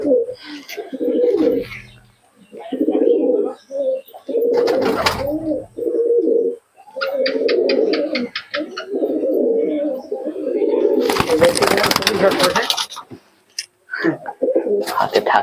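Pigeons of Madras and Malbai breeds coo loudly and close, in long rolling phrases broken by short pauses, with occasional bursts of wing flapping or rustling.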